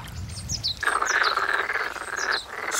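Black-spotted pond frogs croak in a mating-season chorus at a wetland on a volcanic oreum on Jeju Island. Dense, loud trilling calls overlap close by, with higher chirping calls layered above.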